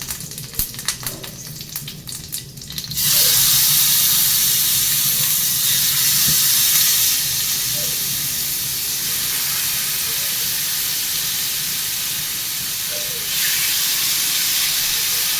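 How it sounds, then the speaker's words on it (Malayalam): Marinated prawns drop into a hot pan for a coconut milk curry and set off a sudden, loud, sustained sizzling hiss that holds steady close by. "ഇനി നമുക്ക് മാരിനേറ്റ് ചെയ്ത് വെച്ചേക്കുന്ന പ്രോൺസ് അതിലേക്ക് ചേർത്ത് കൊടുക്കാം."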